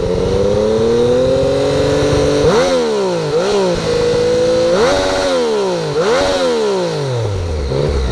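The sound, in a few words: Yamaha FZ-09 motorcycle revving with stock exhaust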